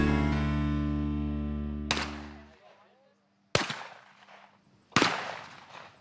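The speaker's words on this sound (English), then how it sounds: "The popping sound of shotguns peppering the air on an almost daily basis." Shotguns fire at a busy shooting range, three sharp reports spaced about a second and a half apart, each ringing out and decaying into open air after a sustained tone fades.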